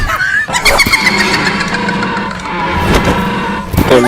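A vehicle engine cranks and starts by remote, a steady motor drone with squealing tones running close and loud throughout, alongside some voice-like sounds.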